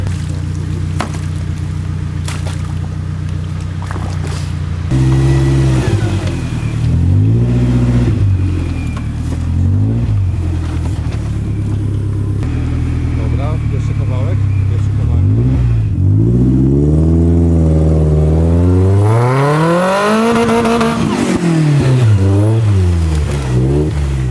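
Off-road competition vehicle with a BMW engine at an off-road cup event: repeated loud revving surges that rise and fall, growing to a long high-pitched climb near the end, with background noise and some talk.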